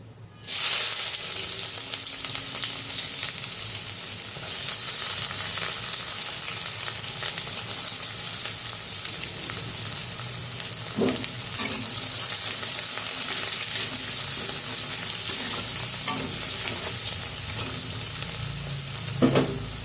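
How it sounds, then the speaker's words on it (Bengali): Chopped onion sizzles steadily in a hot pan of oil with bay leaves while cooking chickpea dal with paneer, a continuous close frying hiss with a few brief stirring clatters and no talk. "তো দিয়ে দেবো এখানে পেঁয়াজ কুচি,"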